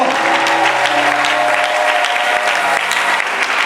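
A church congregation claps together in steady, dense applause that stays at an even, loud level throughout, with no talking over it.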